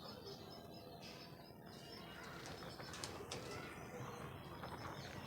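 Domestic pigeons in a loft cage on a pet farm give soft, continuous cooing mixed with occasional wing flaps and faint chirps, a busy bird murmur with some background voice.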